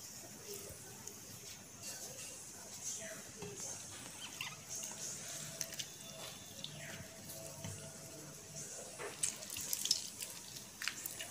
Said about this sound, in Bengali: জলটা নিংড়িয়ে নিতে হবে।